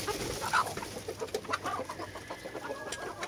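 Backyard hens cluck and chatter nearby while pecking at cucumber and lettuce scraps, a steady busy murmur of short calls.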